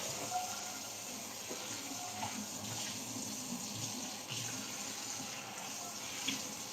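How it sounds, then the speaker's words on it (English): A kitchen tap runs steadily into a sink, a constant close hiss of flowing water with faint clinks, lasting throughout with no talking. "Do you hear the water running?"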